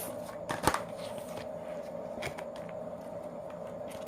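Tarot cards being shuffled and drawn during a reading, heard as soft, close papery riffles and flicks with a couple of sharper snaps early on, quiet throughout.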